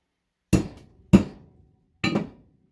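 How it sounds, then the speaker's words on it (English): A hammer strikes an old computer monitor resting on an anvil: three loud, sharp metallic whacks, the first two close together and the third after a short pause, each ringing briefly before dying away, with no talking. "My old friend the hammer."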